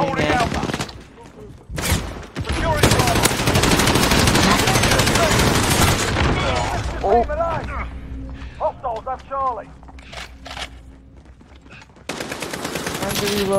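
A light machine gun fires in the video game Modern Warfare, sending out long, loud sustained bursts, then sparser single shots and short volleys over quieter game ambience.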